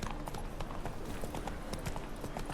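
A horse's hooves clip-clop at a steady trot in the video game The Witcher 3, a quiet, rapid and even rhythm with no one speaking over it.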